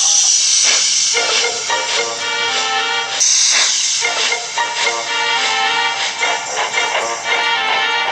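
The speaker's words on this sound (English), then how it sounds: "Next, Thomas puffed into the valley." A steam locomotive hisses loudly and chuffs in steady rhythmic puffs, close up, with sharp bursts of escaping steam.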